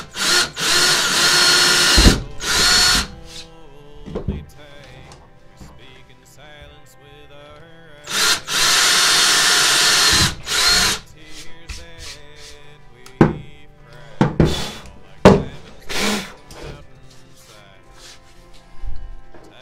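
A power drill bores holes for a Kydex cheek riser, with several loud bursts of high whirring separated by pauses and scattered clicks and handling knocks.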